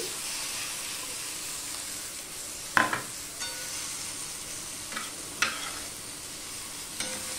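Marinated goat liver going into hot oil with bay leaf, a steady soft sizzle broken by a few sharp spoon knocks and scrapes against the pan, close and fairly quiet.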